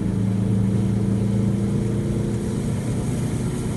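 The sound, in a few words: Subaru EA82 turbo car accelerating from 40 to 110 km/h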